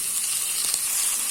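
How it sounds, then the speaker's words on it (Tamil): Tomatoes drop into a pan of sizzling garlic, giving a loud, close, steady hiss of frying with a slight surge midway through the brief moment. "அதுக்கு அடுத்தது தக்காளியை போட்டுக்கலாம்."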